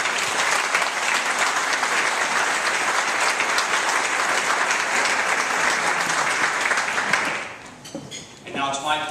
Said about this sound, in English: I'd first like to offer a round of applause to the candidates for being here.